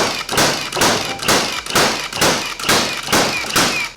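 A Milwaukee 21-degree framing nailer fires in bump mode, eight loud, evenly spaced nail shots with sharp thuds in a steady rhythm, close by.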